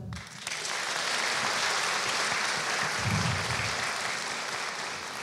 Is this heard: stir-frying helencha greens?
no